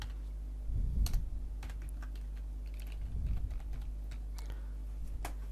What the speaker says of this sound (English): So here we are going to type it here, sample.